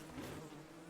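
Bees drone in the Don't Starve video game, a steady, close, low buzzing hum that holds for under a second with no break.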